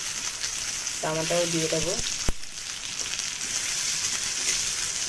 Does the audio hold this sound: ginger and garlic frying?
yes